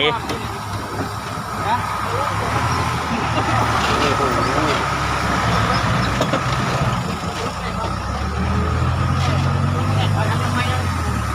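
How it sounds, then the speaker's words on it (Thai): Tractor engine running over a rough, rugged track, a continuous low rumble under constant background noise and voices for the whole stretch. "มาแล้วครับรถไถ"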